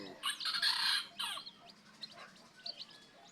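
Chickens, including newly hatched chicks and a five-month-old white rooster, cluck and squawk nearby, with a loud burst of calls at first, then softer scattered clucks.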